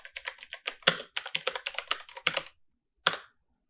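A search being typed on a computer keyboard, a quick close run of crisp key clicks that stops briefly, then a single final keystroke, with no talk.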